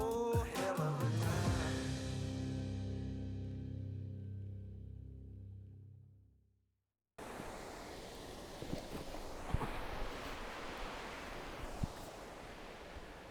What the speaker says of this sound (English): So, here we are at the waterfall